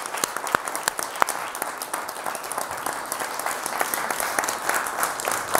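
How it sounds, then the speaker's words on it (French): Audience applause at a French television broadcast, dense steady clapping from a crowd that holds at an even level for several seconds, with a few sharper individual claps standing out. "On peut l'applaudir."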